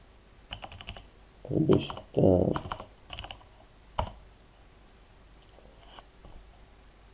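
Keys clatter on a computer keyboard during a programming session, in a few scattered bursts of clicks with a louder thump, while someone speaks briefly nearby.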